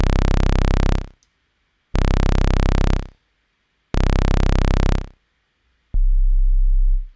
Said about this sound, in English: let's start off with a sine wave. You can hear this at the moment.